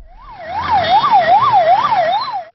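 An ambulance siren wails loud and close in city traffic, its tone sweeping up and down in a steady, rapid cycle of about five rises and falls before cutting off abruptly.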